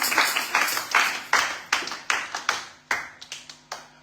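A church congregation applauds in a series of crisp, loud, close hand claps that fall into an uneven rhythm over a few seconds, with no talking.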